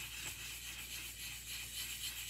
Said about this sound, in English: start in that circular sanding motion with the 400 grit wet dry sandpaper